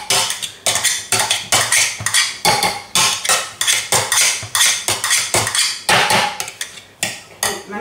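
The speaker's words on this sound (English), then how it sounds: "get your masher and mash the potato down" Potato masher pounding boiled potatoes in a saucepan, a close, loud series of rhythmic metallic thumps and clanks repeating steadily about twice a second, with no talking.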